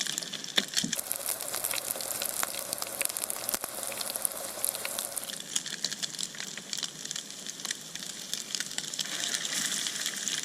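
Prawn paste wrapped on sugarcane sizzling in a hot frying pan, a steady crackling fry with scattered pops, moderately quiet and continuous with no voices.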